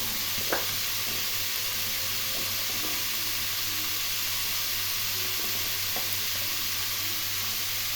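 Ash gourd frying in oil with turmeric and onion in a pan, a steady soft sizzle and hiss with faint stirring clicks, quiet and continuous.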